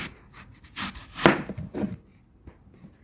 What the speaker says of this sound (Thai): จากนั้นอ่ะหั่นหั่นแอปเปิลก่อน แอปเปิลก็หั่นเหมือนกันค่ะ หั่นเป็นลูกเต๋าเล็กๆนะคะ